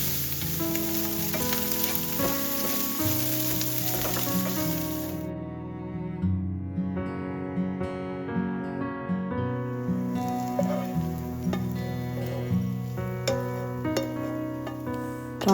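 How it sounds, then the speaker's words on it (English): Chopped prawns with a little salt stir-frying in hot oil and butter in a pan for Goan rissoles, a steady close sizzle with the soft scrape of stirring running throughout, no voices. "we heat some oil and butter and stir fry the chopped prawns with little bit of salt until it turns golden brown"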